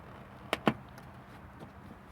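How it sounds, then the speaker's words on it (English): Two quick sharp snaps close together as plastic clips pop loose while a soft door card panel is pried off a 1987 car door, then only faint handling noise. "you get your hand underneath the bottom and just pry ever so gently."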